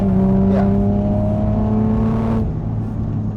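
A Toyota Supra MKV engine revs under throttle, a steady droning whine that holds for a couple of seconds before easing off, loud and close with no voices.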